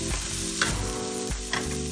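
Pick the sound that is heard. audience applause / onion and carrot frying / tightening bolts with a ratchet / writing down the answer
onion and carrot frying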